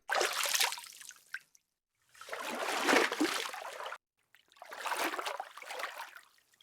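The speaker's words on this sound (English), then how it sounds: "So I ended up going with a little more splashing, a little more above water type of sounds." Above-water swimming splashes designed in Krotos Reformer Pro: three separate, close bursts of sloshing, spraying water, each a couple of seconds long, divided by short silences.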